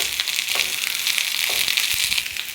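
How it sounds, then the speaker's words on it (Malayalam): Cumin seeds, mustard seeds and drumstick flowers dropped into hot oil give a loud, steady, close sizzle with a few faint crackles, in a Kerala home kitchen. "അല്പം ചെറിയ ജീരകം, അല്പം കടുക്, മുരിങ്ങപ്പൂവ് ഇല കൂടെ ഇടാൻ പോവാണ്"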